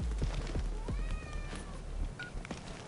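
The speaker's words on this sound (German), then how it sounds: "Damit meine ich meinen Kater, nicht euch." Pet tomcat meowing indoors during a Ghost Recon Future Soldier gaming session, a couple of short rising meows close by over game noise and clicks.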